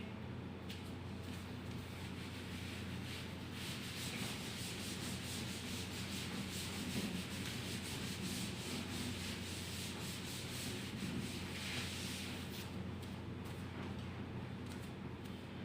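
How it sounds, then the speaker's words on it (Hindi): A duster rubs chalk writing off a classroom board during a Class 10 maths lesson, giving a steady, continuous scrubbing sound that runs unbroken throughout, fairly quiet and close, with no talking. "चलिए इसको अब रब कर देते हैं।"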